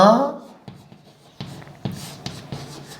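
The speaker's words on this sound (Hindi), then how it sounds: "मैं ये लिखता हूं" Chalk or marker scratches and taps on a board during a physics lecture, a run of short, sharp strokes after a brief voice at the start.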